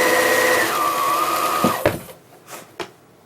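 A sewing machine runs steadily while stitching quilt fabric with folded pleats, a continuous mechanical whir that holds for nearly two seconds, then stops. A few short clicks and handling noises follow, with no talking.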